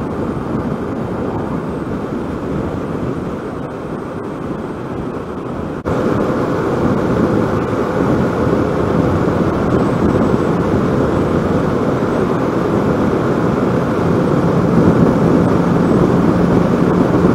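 2021 Kawasaki Ninja 650 cruising at 70 mph on a dual carriageway, dominated by a loud continuous roar of wind buffeting against the engine hum, stepping up abruptly in level partway through and staying steady after.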